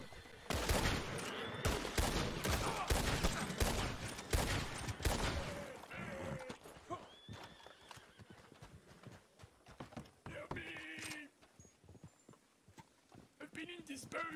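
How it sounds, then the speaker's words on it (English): A shootout in the video game Red Dead Redemption 2 opens with a dense, loud burst of rapid gunshots, then sparser shots and rustling movement follow while people talk over it. "Shots, shots, shots."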